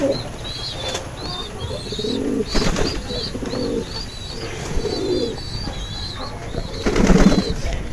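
Racing pigeons coo softly in a dim loft holding flyers and stock breeders, with repeated short calls, brief bursts of wing flapping and light rustling throughout.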